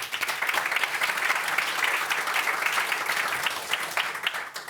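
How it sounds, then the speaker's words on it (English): An audience at a finance policy conference gives a sustained round of applause, many hands clapping in an even, moderately loud wash that tapers slightly at the end. "One more round of applause, ladies and gentlemen, for them."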